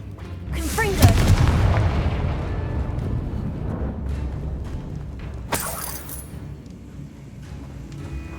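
Blasting spell explosions in Hogwarts Legacy: a loud booming blast with shattering debris near the start, a rumbling tail, then a second sharp crack-like burst midway, over continuous low game rumble.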